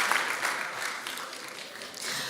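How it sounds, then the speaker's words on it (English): A burst of applause for a speaker at a high school conference, a short, dense run of clapping from a room of students that holds steady throughout. "5 claps for Ming"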